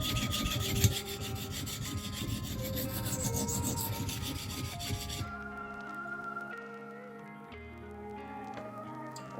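A Leatherman Rebar blade being sharpened on a 400 grit stone gives repeated rhythmic scraping strokes, close and fairly quiet, then a softer, sparser stretch with lighter passes.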